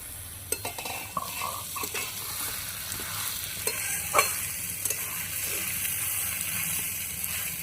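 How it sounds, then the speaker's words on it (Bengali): Ghetkol stems frying in a covered pan, a continuous close sizzle with stirring scrapes and a few clinks of a spatula against the pan. "ভাজাটা হয়নি আর একটু ভাজাটা হবে"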